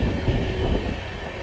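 A Jan Shatabdi Express train runs from Vijayawada to Chennai, its loud, steady rumble and rolling wheel noise filling a short stretch with no voices.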